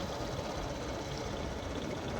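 A combine harvester works a paddy field, its engine a steady, dense mechanical roar with no breaks across the short stretch and no voices.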